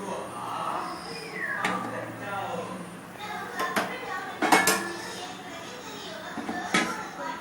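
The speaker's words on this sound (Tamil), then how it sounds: "இப்போ நம்மளுக்கு வேறு ஒரு பிளேட்டில் சர்வ் பண்ணி காட்டுற பாருங்கள்" Chicken biryani being served onto a plate, with utensils clinking and scraping against the dishes in scattered, sharp, close knocks over a quiet kitchen background.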